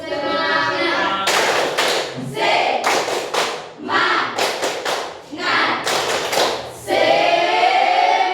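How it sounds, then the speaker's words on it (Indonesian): A group of schoolchildren claps out the tepuk semangat routine in bursts of quick, loud, rhythmic claps and thumps, with voices chanting and calling along between and over the clapping. "Kita tepuk semangat supaya tetap semangat ya."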